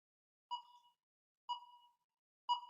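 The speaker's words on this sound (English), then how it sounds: "There's a beep." An audience voting system gives three short, identical electronic beeps, evenly spaced about a second apart, clear and isolated against silence.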